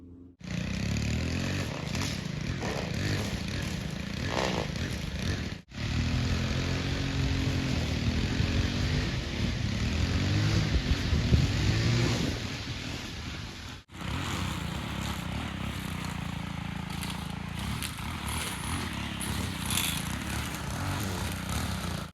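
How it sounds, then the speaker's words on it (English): A lawn mower runs steadily in the distance outside a rural off-grid cabin, a continuous engine drone broken by two brief cuts, with faint scraping and rustling close by. "Is he mowing?"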